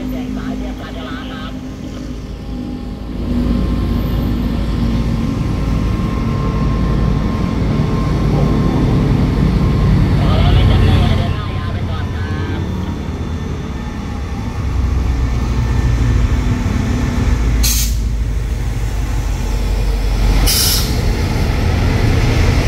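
Express train 171 rolls into the second platform at Ban Pong station, a steady heavy rumble with brief hissing bursts of air brakes near the end, loud and close throughout.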